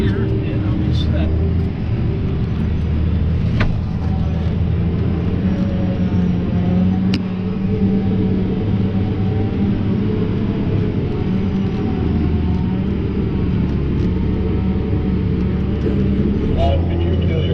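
A car driven by mom on the way to the field gives a steady, loud low engine and road rumble from inside the cabin. It holds continuously throughout, with faint voices mixed underneath.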